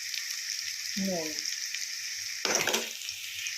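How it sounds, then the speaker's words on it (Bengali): Onions fry in a pan for bhuna khichuri with a steady, close sizzle throughout, while a voice speaks briefly twice. "পেঁয়াজটাকে একটুখানি আগে লাল লাল করে ভেজে নিই"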